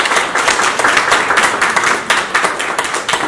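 Audience applause breaks out after a Hindi poetry recitation at a New Delhi literary festival in Hindi Bhavan, a dense, steady wash of many hands clapping together and filling the whole stretch at close, loud level with no voices over it.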